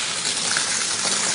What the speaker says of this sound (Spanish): El agua está entrando.